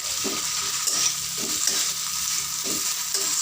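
Capsicum being stirred with spices in a hot pan for a pickle, with a continuous oily sizzle broken by several low scraping strokes of the spoon at an unhurried rhythm, close by and without talk.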